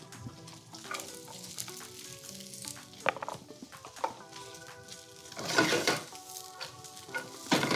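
Onions and celery sauté in a hot pan, a steady crackling sizzle broken by scraping stirs, with clinks of utensils and a louder burst of frying near the end.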